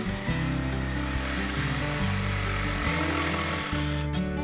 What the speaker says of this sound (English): Using a reciprocal saw and a tape measure, cut the rail approximately 1 inch short of the last post.